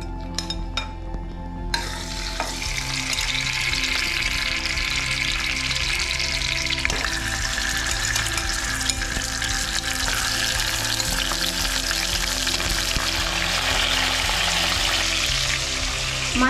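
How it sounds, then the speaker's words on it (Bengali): Katla fish heads fry in mustard oil in a wok with a steady, close crackling sizzle that begins sharply after a brief quieter opening and continues evenly to the end. "এবারে কড়াইয়ে সরষের তেল দিয়ে কাতলা মাছের মাথাগুলো ভেজে নেব।"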